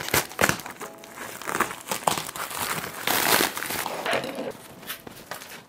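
A cardboard package is opened with scissors, close crinkling, tearing and crumpling of packaging in irregular bursts without speech.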